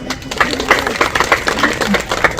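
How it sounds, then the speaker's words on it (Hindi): Audience applause at a women's millet cookie training event, a short burst of scattered, fairly close hand claps with an uneven rhythm and no talking. "आप वैसे जोरदार तालियां।"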